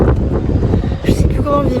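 Strong, cold wind blasts steadily into the microphone outdoors, a close, loud low-pitched rumble that fills the whole moment, with a faint voice briefly underneath.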